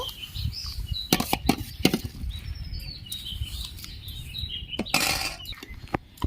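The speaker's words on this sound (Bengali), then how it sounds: "আমি ধুয়ে রাখা ডালগুলো দিয়ে দেব" Washed mung lentils poured into a pot of hot water, a few sharp clinks and knocks against metal followed by a splashing pour, set over a low background hum with faint bird chirps.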